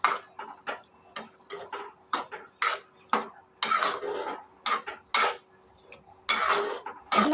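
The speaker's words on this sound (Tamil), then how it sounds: "வெந்ததுக்கப்புறம் அரைச்சி வச்சுருக்க பேஸ்ட்டை ஆட் பண்ணிக்கோங்க. நல்லா மிக்ஸ் பண்ணிவிடுங்க." Ground paste being mixed into vegetable gravy in a pan, with a series of close, irregular metallic scrapes and clinks of a spoon against the pan, separated by short pauses and no speech.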